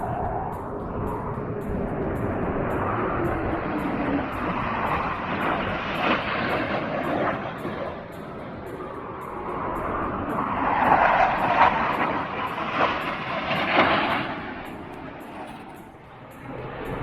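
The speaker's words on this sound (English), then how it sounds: "plane coming in." RAF jet flying low over Raven Crag on a hillside hike, a broad roar that swells and fades across the whole stretch, building to a louder peak near the end, heard from outdoors.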